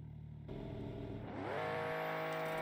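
A BMW M3 CS engine in a video game hums at idle, then revs up with a rising whine that settles into a steady high drone, fairly faint and with no talking.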